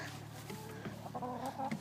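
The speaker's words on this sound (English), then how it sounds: "I'm just recording chickens" Several chickens cluck softly and irregularly nearby, with low background hum and no talking.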